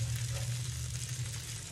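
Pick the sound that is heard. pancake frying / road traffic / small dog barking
pancake frying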